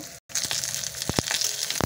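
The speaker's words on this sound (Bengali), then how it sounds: "আমার সবজিগুলো অল্প অল্প আছে, আমি 2-3 রকমের সবজি একবারে দিয়ে ভেজে নেব" Potato and pointed gourd pieces fry in oil in a pan, giving a close, steady sizzle and crackle with a few sharper pops and a brief dropout near the start.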